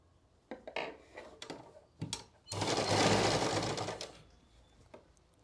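Electric sewing machine running while stitching the waistband casing (nefa) of a salwar, in short bursts near the start followed by one long steady run of rapid stitching, close and loud, then tapering off.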